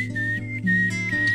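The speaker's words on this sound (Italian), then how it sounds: "abbiamo ascoltato il fischiatore direttamente da Sarallo Famosi Radio Roma" A professional whistler performs live on Radio Roma's show Sarallo Famosi, holding steady, clear, loud tones that glide between notes over a soft musical backing.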